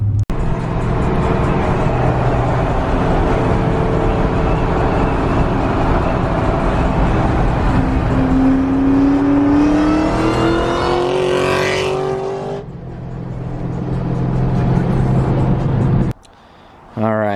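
A 2004 Ford Mustang SVT Cobra in Mystichrome paint rides along under loud, steady engine drone, then revs hard with a rising whine through the gears before easing off, heard from inside the car.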